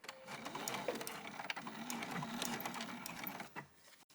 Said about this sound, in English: as I sew over my strap, I'm going to reinforce that strap with extra rows of stitches